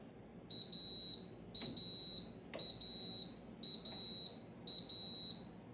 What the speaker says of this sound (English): Those are the beeps to indicate the rice is finished cooking.